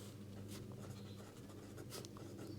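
A pen scratches on paper as a matrix problem is written out, faint, close strokes in short irregular bursts over a low steady hum.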